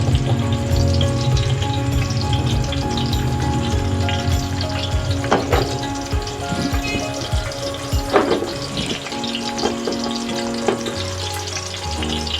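Chopped onions frying over medium heat for a chicken pulao, a steady dense sizzle with occasional clinks and scrapes of stirring, no talk.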